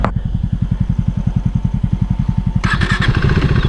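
A motorcycle engine on a monsoon off-road ride in the Kyatanamakki Hills cranks with rapid regular thuds, then catches and fires up, the exhaust note suddenly growing louder and harsher near the end.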